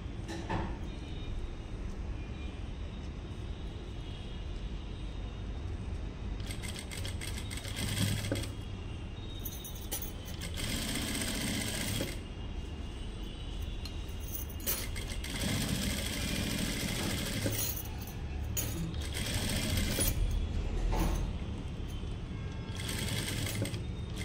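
A sewing machine stitches a lehenga in bursts of steady, close-up whirring that start and stop several times, with quieter gaps of handling between runs and no talking.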